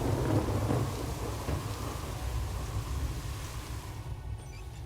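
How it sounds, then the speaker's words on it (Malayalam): Heavy rain pours steadily with deep thunder rumbling through it, loud and continuous, easing slightly toward the end. "ഈ എരണം കെട്ട മഴ വല്ല കെടുതിയും വരുത്തി വെച്ചേ പോകത്തുള്ളൂ"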